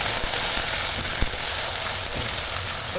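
Ground tomato and onion paste frying in a pan over fried onions, giving a steady close hiss of sizzling with a faint soft tap or two and no voices.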